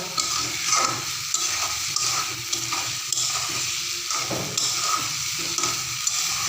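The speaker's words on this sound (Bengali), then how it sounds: "এই যে আমি মেখে তেলের মধ্যে ছেড়ে দিয়েছি। তো এখন আমি একটু হালকা নাড়াচাড়া করব।" Marinated shrimp sizzle steadily in hot oil for a coconut, mustard and poppy seed prawn dish, with a spoon stirring through in repeated light scrapes and clicks and no talking.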